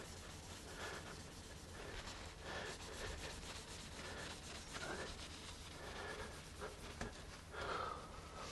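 Cloth rubbing along polished guitar frets during a final wipe after re-fretting, a steady soft scrubbing that swells and fades in several strokes at close range, alone with no talk.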